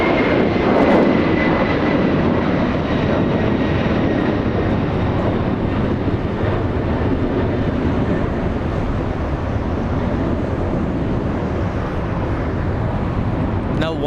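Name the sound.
heavy airliner taking off at LAX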